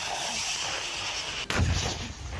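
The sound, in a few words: artillery shelling by Russian forces in Ukraine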